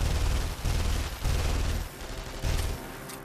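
Heavy bursts of gunfire from the video game The Saboteur come in rapid volleys, loud and dense, with short pauses between them.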